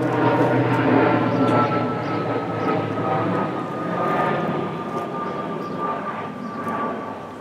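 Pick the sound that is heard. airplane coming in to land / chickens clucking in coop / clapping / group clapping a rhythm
airplane coming in to land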